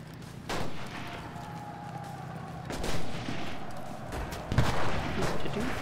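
Gunfire in the video game Enlisted, with bursts of shots at about 0.5, 2.8 and 4.5 seconds over steady battlefield noise, fairly loud and close.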